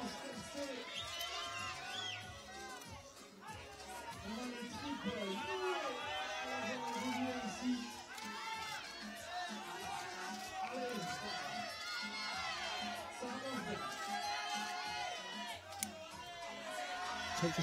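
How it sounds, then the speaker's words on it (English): A French crowd at a 2019 ice climbing World Cup lead final in Champagny cheers and chants rhythmically, a steady dense roar of many voices filling the background throughout. "you can hear the French crowd, allez, allez, allez, willing her on"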